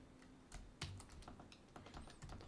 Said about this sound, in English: Don't look outside while typing.